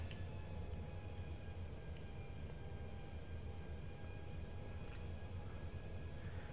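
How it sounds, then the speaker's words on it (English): A British Airways Airbus A350 in the X-Plane 12 flight simulator taxies and turns around at Barcelona El Prat, giving a low, steady engine rumble with faint whining tones, constant and unbroken, with no talking. "So let's turn this giant beast of an aircraft"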